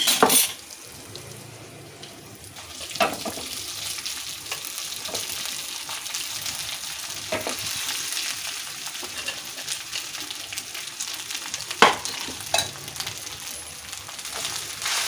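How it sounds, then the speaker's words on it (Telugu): Rice being stirred and fried in a pan with fried seasonings for lemon rice, a steady broadband sizzle with scraping stir strokes and occasional clinks, fairly close and continuous with no talking. "ఒకసారి కలుపుకుందాం మంచి సిమ్లో పెట్టుకుని"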